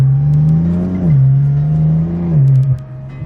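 BMW F80 M3 with front mount intakes and downpipes revving hard, two strong swells of engine pitch rising and falling over about three seconds, loud and close with no talk.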